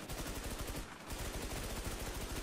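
Video game gunfire, a rapid automatic stream of loud shots in a steady rhythm with a brief break near the middle.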